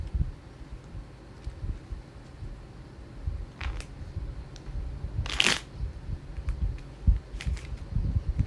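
A deck of tarot cards is being shuffled close by. Quiet rustling is broken by a few crisp riffles and one loud burst of cards snapping together, with a low handling rumble underneath and no voices.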